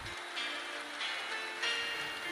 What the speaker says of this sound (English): it's raining now, and it worked like a charm.